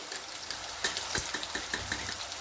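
Tomato and garlic sautéing in a pan for a spinach curry, a soft steady sizzle punctuated by a few light clinks and scrapes of a spoon stirring, close and fairly quiet with no talking.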